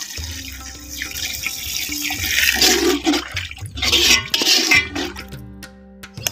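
Water pours into a cooking pot of masala-coated rice for Karaikudi Chettinad-style mutton biryani, a loud gushing splash that swells and ebbs over several seconds before trailing off.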